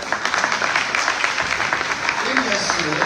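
Audience at a 2025 graduation celebration applauding the volunteers, a dense wash of clapping from a crowd throughout, with voices mixed in.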